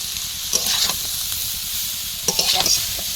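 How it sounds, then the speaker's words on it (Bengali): Beetroot and potato stir-fry in a pan over a steady oily sizzle, with two bursts of spatula scraping and tossing, one near the start and one later on. "এবারে বিট আর আলুটা দেবো"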